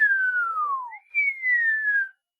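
A person whistles two long gliding notes, the first sliding steadily downward, then a higher note that slowly falls, imitating a falling sound.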